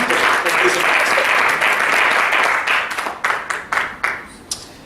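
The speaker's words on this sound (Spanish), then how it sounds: "Démosle un aplauso al Rey bendito." Congregation applause in a church service honoring the King, dense sustained clapping that thins into a few scattered claps near the end, with voices mixed in.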